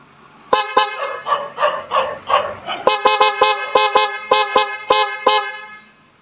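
Loud, close dual car horn wired with a relay, sounding in bursts: a few long blasts followed by a rapid series of short honks with a dual-tone pitch.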